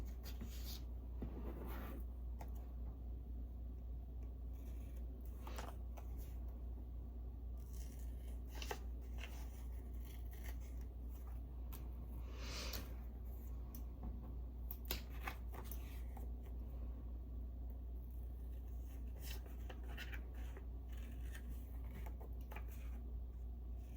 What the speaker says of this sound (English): I can just trim the rest of this down.